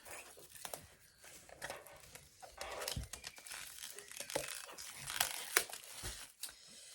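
A wrapped notebook is opened, its paper wrapping crinkling and tearing in busy, irregular bursts close to the listener, with no talking.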